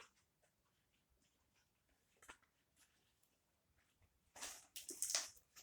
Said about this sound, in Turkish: Şimdi makasla bu kısımlarını düzeltebilirim.